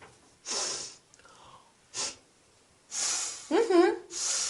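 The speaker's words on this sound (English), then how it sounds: "How do I show disapproval? Easy. You sniff." Several sharp nasal sniffs and breathy hisses come in short bursts with pauses between, close to the listener, one ending in a wavering vocal sound.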